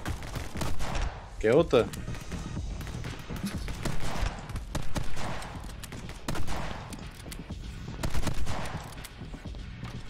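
Gunfire in the video game My Friend Pedro, repeated bursts of shots rolling through a busy game soundtrack, with someone talking briefly over it.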